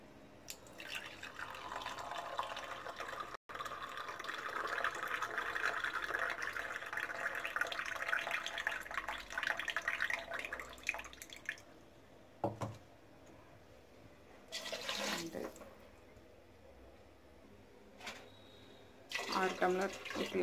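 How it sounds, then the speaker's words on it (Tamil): Six tumblers of water stream steadily into a cooking pot of rice and lentils for paruppu sadam, a continuous pour for about ten seconds followed by a few short splashes as more water is added. "அதுக்கு 6 டம்ளர் தண்ணியை ஊற்றணும்."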